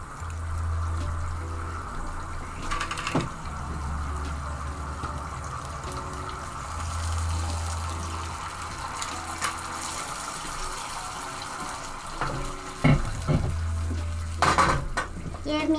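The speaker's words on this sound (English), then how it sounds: "Gonna add some water." Water pouring into a cooking pot in a home kitchen, a steady close splash and trickle mixed with clanking pots and utensils, under a low humming background.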